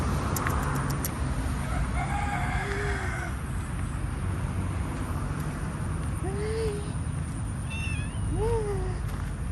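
A cat meows several times, thin rising-and-falling calls spaced a few seconds apart, heard at a moderate distance over a constant loud background rumble and hiss.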